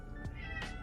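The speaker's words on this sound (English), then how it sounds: "If you hear my cat in the background, he's getting hungry." A hungry house cat meows faintly somewhere in the room, one short call then a second, brief and soft against quiet indoor background.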